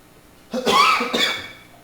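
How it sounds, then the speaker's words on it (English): A single close cough, two harsh bursts in quick succession with a short pause between, loud and alone with no talking. "It was a cough."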